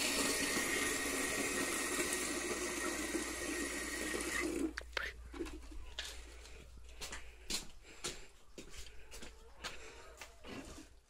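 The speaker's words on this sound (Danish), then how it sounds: "Vand, det tapper jeg her fra min hane." Water running from a household tap, a steady close rush that stops abruptly partway through, leaving quiet clicks and handling noises afterward.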